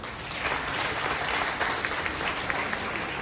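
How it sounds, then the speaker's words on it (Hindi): An audience at a Hindi public speaking event applauds with steady, even clapping. It sounds faint and somewhat distant and keeps a constant level throughout without pause. "जोरदार तालियां बजाओ"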